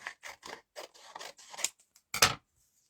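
Scissors cut through a piece of striped patterned designer paper for card making, producing a string of short, crisp snips up close, ending in one louder final cut.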